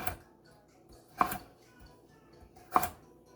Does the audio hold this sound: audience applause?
no